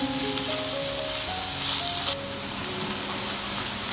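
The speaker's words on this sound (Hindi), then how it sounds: "इसको भी हम सौते करेंगे, ब्राउन नहीं करना, हल्का सा इसको भी हमने भूनना है" Chopped onion softly sautéing in a hot pan, giving a steady, moderate sizzle and hiss with occasional stirring scrapes, close up and without talk.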